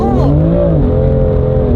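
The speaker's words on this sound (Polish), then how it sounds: "Teraz sprawdzimy, czy na równym asfalcie ta fura podaje." A car accelerating hard on a smooth asphalt road, its engine note rising and then settling into a steady loud drone close by, with no pauses.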